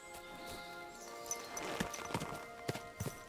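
Horse hooves clip-clop in Kingdom Come: Deliverance II, a walking rhythm of hoof strikes picking up after a quiet start, moderately close over faint ambient game background.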